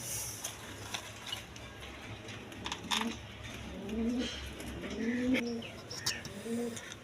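Pigeons in a pair for sale coo with low, throaty warbling calls that rise and fall several times over a busy, noisy background with clicks and mechanical rattles, the cooing moderately close.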